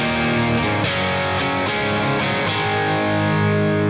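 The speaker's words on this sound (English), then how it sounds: "this is a great start for a rock rhythm sound" Heavily distorted electric guitar chugging a steady rock rhythm, dense and loud throughout with no gaps.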